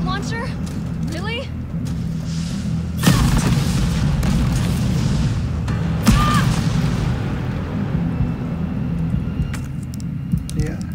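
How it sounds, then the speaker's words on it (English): Rocket launcher blasts in the Resident Evil 3 Remake, heavy booms landing at intervals over a dense game soundscape with a voice talking throughout. "Rocket launcher? Really?"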